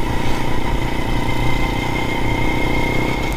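A Honda S90 chopper motorcycle idles close by, its engine putting out a loud, steady, even putter that holds throughout with no talking.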